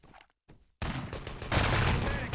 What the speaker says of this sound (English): Nice headshots there from Grace.